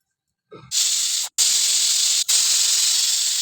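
A loud, sharp steam hiss bursts in and holds steadily, cut by two brief pauses, like a pressure cooker releasing steam.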